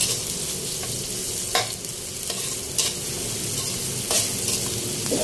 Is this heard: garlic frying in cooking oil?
yes